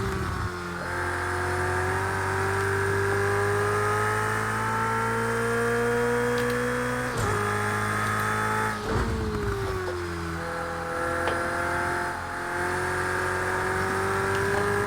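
Engine of a racing car in the Project CARS video game revving and pulling through the gears, a loud, steady whine that climbs in pitch, drops at each shift and then rises again, with no talk over it.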